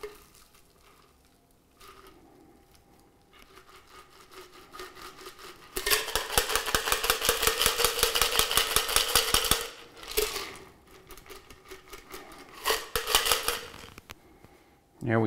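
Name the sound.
cocktail being strained through a fine strainer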